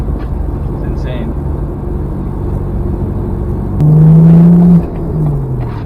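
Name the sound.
2013 BMW 135i six-speed manual car driving fast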